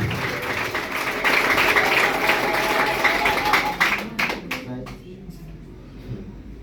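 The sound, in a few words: audience clapping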